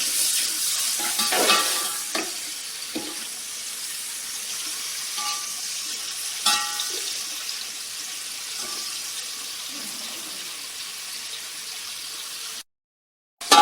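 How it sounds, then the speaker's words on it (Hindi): Chopped onions frying in hot oil for aloo matar pulao, a steady close sizzle with occasional stirring scrapes throughout, cutting out briefly near the end. "अब इसके अंदर मैं ये डाल दूंगी प्याज। इसे फ्राई कर लेंगे।"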